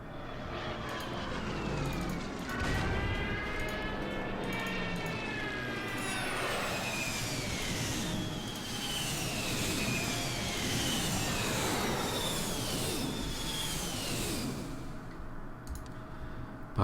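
Bomber aircraft in the strategy game Order of Battle drone steadily in a loud propeller-engine roar, with rising and falling tonal whines sweeping across the sound throughout, no talk.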